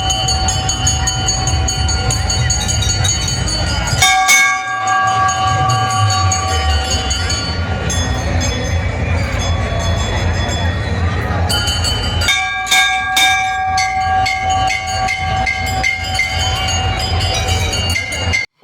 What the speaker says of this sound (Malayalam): ഭയങ്കര ഇഷ്ടമാണ് ഇതുപോലെ അമ്പലത്തിൽ വന്നു കഴിഞ്ഞാൽ മണിയടിക്കാൻ